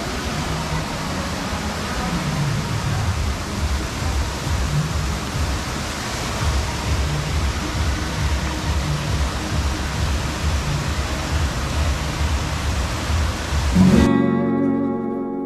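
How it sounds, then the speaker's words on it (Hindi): Bhatta Falls near Mussoorie pours in a steady, broadband rush of falling water, constant and fairly close, with no talk over it, ending abruptly. "भट्टा फॉल एक ऐसा फॉल है जो बाकी झरनों से बिल्कुल अलग इसलिए हो जाता है"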